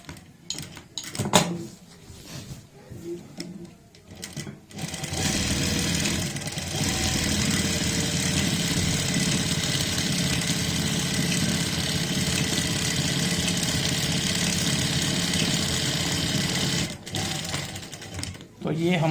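A sewing machine stitches a readymade hook saree in one long, steady, loud run of rapid needle strokes, after a few seconds of handling noise and brief starts.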